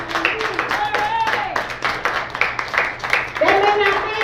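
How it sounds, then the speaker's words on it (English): Church congregation clapping along with the pastor's preaching, a steady stream of hand claps running under loud, impassioned talking throughout. "Come on and clap your hands."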